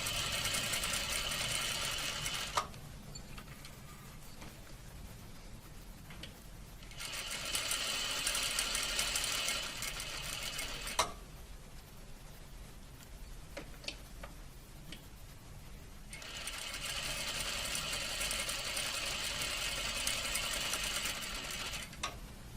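A sewing machine stitching at varying speeds set by a foot pedal: a steady close whirring hum that rises and falls in long stretches, with brief pauses and faint ticks between runs.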